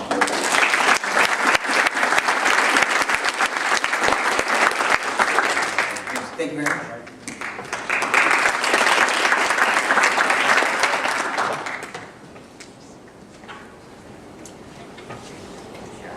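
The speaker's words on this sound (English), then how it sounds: "So if we could get him a round of applause." An audience applauds at a closing ceremony for a charity coding event, with loud sustained clapping through most of the clip. It dips briefly while a voice speaks, swells again, then fades to quiet room tone.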